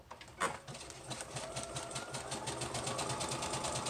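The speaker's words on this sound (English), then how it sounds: "Okay, hold on while I sew." Sewing machine stitches in a quick steady run, a close rhythmic mechanical whir that builds after a brief clunk at the start, with no voices.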